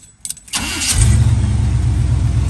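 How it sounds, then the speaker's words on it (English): A 1979 Chevrolet Camaro V8 with a newly fitted Holley four-barrel carburetor cranks briefly, then fires and settles into a loud, steady, rumbling idle close by, with no talking. "starting up and cranking up every single time"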